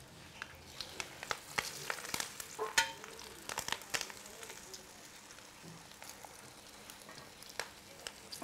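Karimeen (pearl spot fish) wrapped in leaf frying in a covered pan, a soft steady sizzle with scattered crackling pops, fairly faint and close, with no talk over it.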